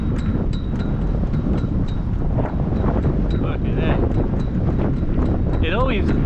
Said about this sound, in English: the wind starts kicking in really bad